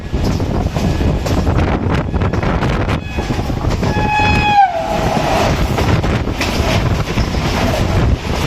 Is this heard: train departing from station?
yes